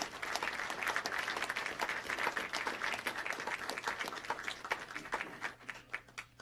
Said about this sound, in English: ask everybody here to give them a round of applause